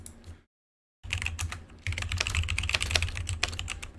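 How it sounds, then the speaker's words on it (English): A loud, clacky computer keyboard is typed on in quick, uneven bursts after a short gap of silence, its sharp keystrokes close and dense with no talking. "Sorry, this keyboard's super loud."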